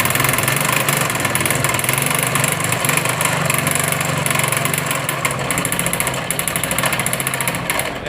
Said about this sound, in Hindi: अगर स्टार्ट करके दिखाऊँ मैं आपको तो किस तरीके से आवाज़ आ रही है वो सुनाता हूँ।